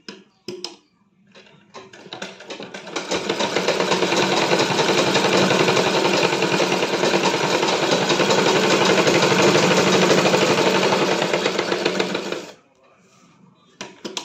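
Sewing machine stitches a folded fabric edge on a patiala pant, running in a fast, continuous mechanical whir for about nine seconds, with a few short clicks before it starts and quiet after it stops.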